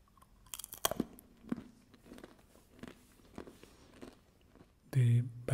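Batter-coated cashews crunch and crackle as they are bitten and chewed close to the mic, with sharp irregular crunches and softer chewing; a voice speaks briefly near the end.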